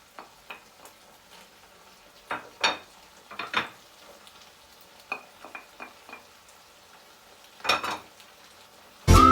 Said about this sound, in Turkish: Ardından soğanımızı ve yeşil biberimizi ekleyeceğiz. Ve bu şekilde biraz kavrulmaya bırakacağız.